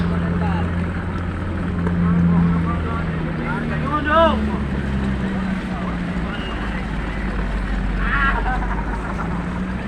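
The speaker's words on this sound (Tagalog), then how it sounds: "Napakaraming mga bangka" Many motorboat engines drone steadily at Bulan Fish Port, Sorsogon, Philippines, with wind rumbling on the microphone and occasional distant voices and calls.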